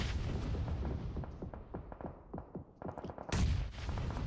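Grenade blast in the battle royale game PUBG Mobile during a competitive match: a loud, booming burst near the end erupts out of a stretch of rapid gunfire cracks, with no talking.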